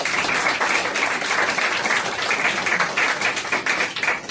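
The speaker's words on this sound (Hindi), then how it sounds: "जोरदार तालियां हो जाएंगी" Applause from an audience at an anniversary event, a dense steady patter of many hands clapping throughout, fairly loud and close with no voices over it.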